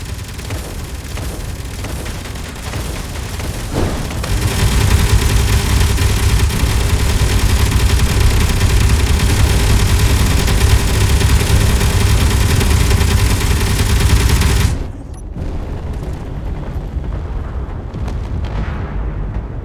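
A battering ram slams into a structure in the Throne of Njord game, a loud, sustained roaring rumble lasting around ten seconds before cutting off abruptly to a quieter engine-like hum.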